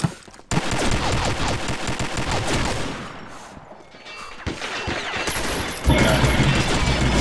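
Gunfire in the online shooter Combat Arms rattles in dense, overlapping bursts through most of the stretch, loud and close, with a brief lull before sharp shots return.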